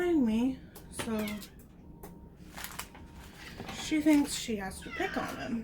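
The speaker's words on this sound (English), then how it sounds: "Of course, my cat's laying in here behind me" A house cat meows several times close by, rising and falling cries scattered among a person's talking, with a puppy nearby and faint clatter in the room.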